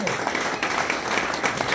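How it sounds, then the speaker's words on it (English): Steady applause from a live bar crowd at a Wrecking Crew show at Bogie's Bar, a dense, even wash of clapping running the whole moment. "Give her a great round of applause"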